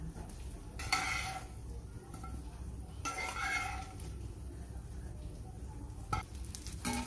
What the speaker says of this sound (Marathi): आता याच्यामध्ये बटाटा टाकून घेऊया